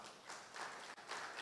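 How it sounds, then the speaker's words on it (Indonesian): Applause from a church congregation during a Sunday worship service, a soft, steady wash of clapping that swells in waves, fairly faint and distant with no talking over it. "Tepuk tangan untuk Tuhan Yesus."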